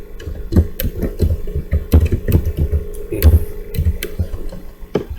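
Fast typing on a computer keyboard while entering a formula in a Microsoft Excel spreadsheet, with dense, loud, irregular key clicks and thumps close up and no talking.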